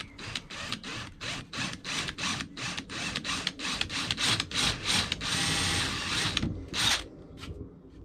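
Rapid rhythmic rasping bursts of a power drill with a 5.5mm bit, running in reverse, biting into wood, about a dozen quick pulses followed by a longer steady grind, close and fairly loud.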